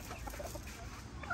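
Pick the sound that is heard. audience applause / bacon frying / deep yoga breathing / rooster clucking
rooster clucking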